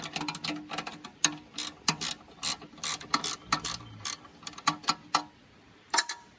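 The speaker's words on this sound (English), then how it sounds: "these little gear wrenches are handy" Small ratcheting gear wrenches clicking close up while working on a broken Kubota tractor, rapid bursts of sharp mechanical ticks in uneven runs with brief gaps between them.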